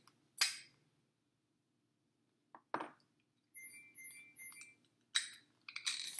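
Metal spoons, knives and forks clink and chime against each other in a few sharp, separate bursts, close and fairly quiet, with silence between them and no talking.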